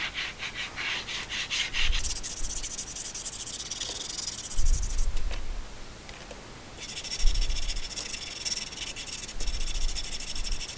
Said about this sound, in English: And that's a little hand sander to do some finishing.